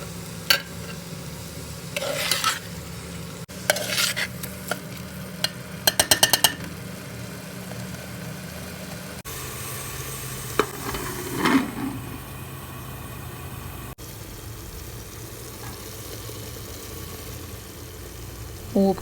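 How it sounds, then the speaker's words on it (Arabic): A spoon stirs kabsa ingredients, onions and spices, in a pot, giving intermittent scraping and clinking over a steady background hum with faint sizzling and no talk. "وأقلبهم شوية مع بعض لحد ما تمتزج المكونات"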